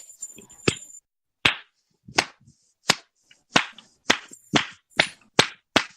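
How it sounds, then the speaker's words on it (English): Sharp, loud single hand claps in a quiet room, about nine of them, spaced unevenly at first and then settling into a roughly steady rhythm. "Why are you clapping?"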